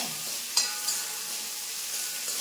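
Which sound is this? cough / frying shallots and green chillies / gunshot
frying shallots and green chillies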